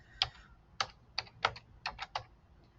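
Keys on a computer keyboard are tapped to enter an equation into Desmos, giving about eight distinct, close, crisp clicks spaced irregularly over a faint quiet background.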